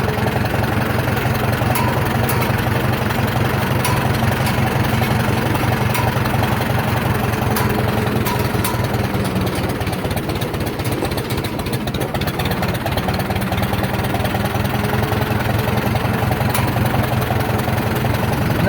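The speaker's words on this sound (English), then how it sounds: "I'll idle it down all the way here to a crawl. You guys can see just how good it runs at an idle here." A 1947 Farmall M tractor engine idling at a crawl after cylinder head work, a steady low rhythmic chug with a throbbing beat, close and constant throughout with no voices.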